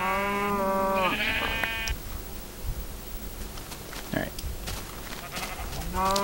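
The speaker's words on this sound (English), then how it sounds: "just because of so many sheep, and there's so many farm animals" Sheep bleat in the Minecraft video game, a few wavering harmonic bleats at the start and another beginning at the end, with soft rustling game ambience in between.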